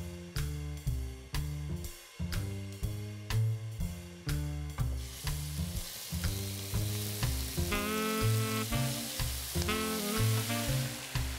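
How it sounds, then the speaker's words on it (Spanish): Diced chicken browning in a hot wok, a steady sizzle with rhythmic clanks and scrapes of stirring, the frying hiss growing louder and denser toward the end, close and without talk. "Ahora el pollo lo vamos a picar en cubitos, doramos bien en un wok"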